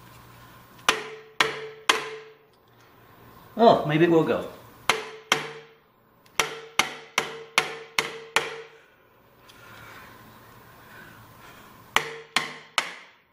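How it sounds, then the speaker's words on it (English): Sharp hammer blows strike hard on PVC pipe in quick groups of two to five, with a short spoken remark between the bursts of banging. "Let me try to bang on a little bit with a hammer."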